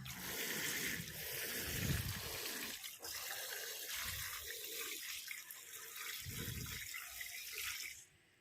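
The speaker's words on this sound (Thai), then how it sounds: "เสร็จเรียบร้อยแล้วเราก็ลดน้ำให้เขาอีกหน่อยหนึ่ง" Water poured into a small potted plant, a steady continuous splashing and trickling stream heard close and fairly loud throughout, with no one speaking.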